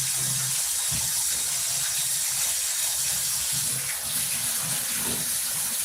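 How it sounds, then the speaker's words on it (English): Hair is dipped into water while a steady loud rush of running water hisses continuously, with faint sloshing underneath. "So we dip my hair in the water."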